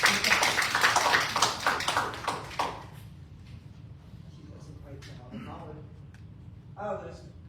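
An audience at a City of Mulberry commission meeting claps in a dense burst of many hands for about three seconds before it stops and scattered talk and light noises follow.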